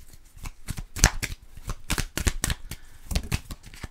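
Tarot cards are shuffled in quick bursts of riffling and flicking, a dense papery rustle that rises and falls close up across the whole stretch, with no talk.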